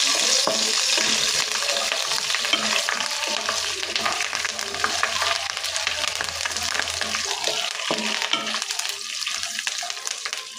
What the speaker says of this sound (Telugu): ఎల్లుల్లిపాయ, జీలకర్ర, మినపప్పు, ఎండుమిర్చి ఇవన్నీ వేసుకొని వేపుకోవాలి.